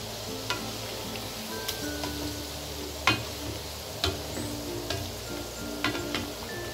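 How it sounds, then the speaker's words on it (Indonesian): Chicken liver and gizzard sizzle steadily as they fry in hot oil, a continuous crackling hiss broken by occasional sharper pops and spits, close and alone with no talking. "Goreng ati amplanya seperti ini aja ya ibu-ibu, nggak usah kering-kering."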